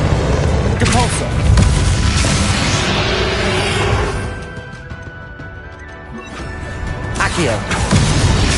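A Depulso spell goes off in Hogwarts Legacy with loud, dense booming and crashing blasts of combat noise, sustained and close, while a voice calls out over the fight.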